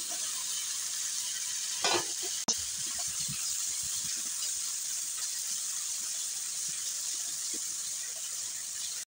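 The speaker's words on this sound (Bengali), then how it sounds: "আমি এখন বেগুনগুলো যে কেটে ধুয়ে রেখেছি সেটা দিয়ে দিচ্ছি।" Cut, washed eggplant pieces dropped into a pan of mixed spices, a brief clatter and splash followed by a steady, close sizzle of frying that carries on alone without pause.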